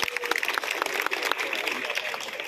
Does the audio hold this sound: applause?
yes